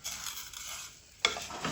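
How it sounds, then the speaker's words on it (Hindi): Vermicelli for sweet seviyan frying lightly in a pan over low heat, a soft steady hiss, then a sharp scrape and clatter of stirring near the end, with no talking. "इनको थोड़ा सा फ्राई कर देंगे, ज़्यादा नहीं इनको आपने जलाना"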